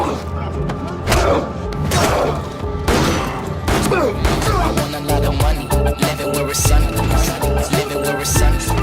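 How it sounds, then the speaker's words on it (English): Rapid bursts of gunfire crackle and thud in quick succession, loud and close, mixed with impacts and some shouting voices. "The sound of gunfire attracts dozens of other thugs, and a shootout ensues."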